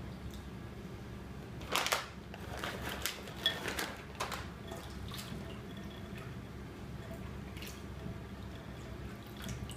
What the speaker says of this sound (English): after you get your nuts in the bowl, you start swirling.